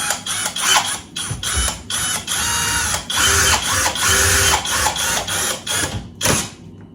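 A screw is driven into the side panel of a built-in electric oven by a power screwdriver, giving a loud, steady whirring buzz with short pauses and restarts, close up, no talking.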